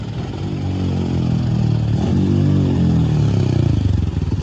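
A motorcycle engine runs loud and close, a steady throbbing rumble that swells as it revs and then falls back, with clatter near the end and no talking.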